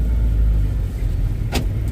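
Interior road noise from a Tata Sumo Gold on a foggy Punjab highway trip, a steady low rumble of engine and tyres with a brief sharp whoosh near the end, no voices.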